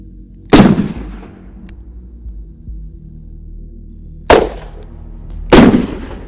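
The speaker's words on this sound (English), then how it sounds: "It's a short-barreled 357 Magnum, 158 grain, jacketed hollow point at contact." Three sharp, loud reports from a short-barreled .357 Magnum firing 158-grain jacketed hollow-point rounds at contact into Level II soft body armor, widely spaced and each decaying quickly into a quiet outdoor background.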